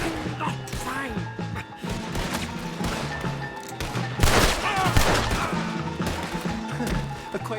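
Gunfire bursts from a video game mission, a dense volley mixed with crashes and thuds over game music and background voices, loudest near the middle.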